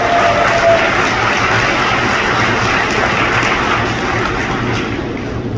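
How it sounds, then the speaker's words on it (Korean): Loud, sustained applause fills an auditorium at the 41st Gumi High School graduation ceremony as guests are introduced, a dense wash of many clapping hands that carries on steadily and tapers slightly at the end. "소개되면 큰 박수로 맞이해 주시기 바랍니다"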